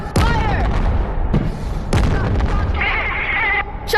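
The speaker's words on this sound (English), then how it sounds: "Shots are fired!" Revolver gunshots in the video game Animal Company crack out as several sharp, loud bursts, closely spaced over a few seconds, mixed with other game noise.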